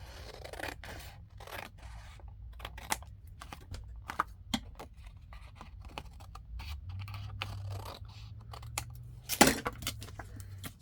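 Scissors snip through a paper file folder while it is trimmed for a junk journal pocket, giving a string of quiet, close cutting clicks and crisp paper rustles over a low steady hum.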